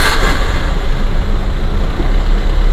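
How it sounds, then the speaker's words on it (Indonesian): A 2014 car engine idles close by in a steady, even, loud rumble with no breaks or revving. "ini suara stasionernya"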